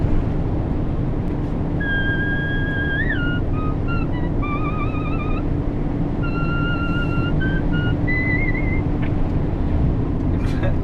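Someone whistles a tune in clear, wavering notes over a CB radio in a truck cab in the UK, atop a loud steady engine rumble and road noise.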